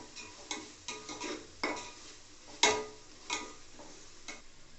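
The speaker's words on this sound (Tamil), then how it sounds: "அடிப்பிடிக்காமல் வதக்கிக்கோங்க." A spoon stirs ginger garlic paste frying in a pan while making mushroom biryani, giving a run of sharp scraping clicks and taps over a faint, quiet sizzle.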